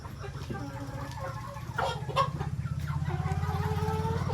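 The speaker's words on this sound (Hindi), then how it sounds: "करीब 300 के आसपास मुर्गे हैं हमारे पास। सिर्फ मुर्गे हैं, इसमें मुर्गियाँ नहीं है।" Roosters on a poultry farm holding about 300 birds, all males around 72 days old, cluck steadily close by in a dense, rhythmic flock chorus with occasional louder calls rising over it.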